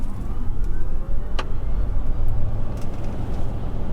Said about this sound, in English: Into sport mode now and just do an acceleration test.